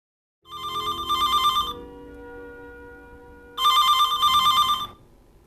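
A telephone rings in a flat in Kingston upon Thames: two bursts of a loud, close electronic bell, the second starting after a pause of about two seconds.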